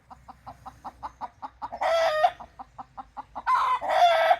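An agitated rooster and hens in a chicken pen: a steady run of loud, close clucks, broken twice by long, harsh crowing calls.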